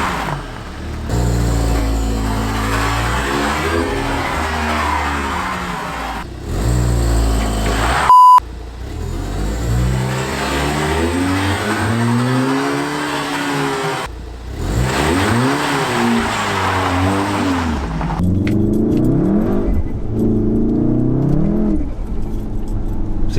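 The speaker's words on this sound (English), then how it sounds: "And all four wheels are spinning because obviously it's icy on the floor." A car accelerates on an icy surface with all four wheels spinning, the engine revving up and down in repeated loud surges with a brief cut and sharp click partway through.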